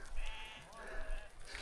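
A sheep bleats in a remote Chinese highland, one wavering call heard close against a windy, noisy background.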